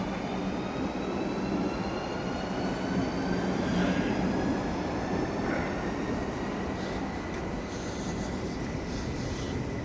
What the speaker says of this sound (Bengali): আর এই যে দেখেন ট্রেনটা চলে যাইতেছে